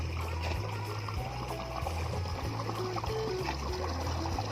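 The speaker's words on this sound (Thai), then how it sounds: "พร้อมเสียงน้ำไหล" Water pours and trickles steadily at a rice paddy field's earthen bank, a continuous rushing flow filling the scene with no voices.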